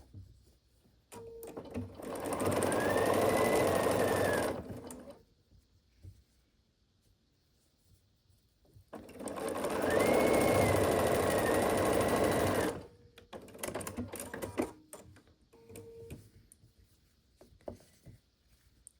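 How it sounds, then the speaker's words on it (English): Two bursts of a domestic sewing machine stitching quilt block squares, each a loud steady whirring run of several seconds, separated by quiet handling noises and fabric rustle. "we can sew this together just like a 4 patch"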